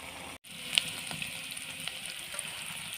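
A vegetable bhaji frying in a pan gives a steady, fairly quiet sizzle throughout, with a brief dropout near the start and faint stirring clicks scattered over the hiss.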